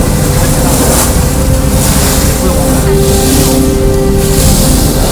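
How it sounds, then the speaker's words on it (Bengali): Rough sea off Coral Island, Pattaya, heard from a boat: a steady, loud wash of waves and water rushing past the hull with a constant engine rumble underneath, continuous throughout. "ভালোই ঢেউ হচ্ছে। এদিক থেকে শহরের ভিউটা খুব চমৎকার দেখা যাচ্ছে, সমুদ্র খুবই উত্তাল।"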